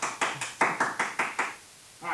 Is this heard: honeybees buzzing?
no